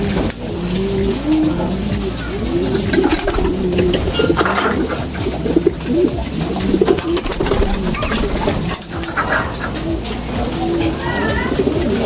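Pigeons coo repeatedly in low, throaty bursts amid a busy background with clinking sounds and a person talking intermittently in Filipino.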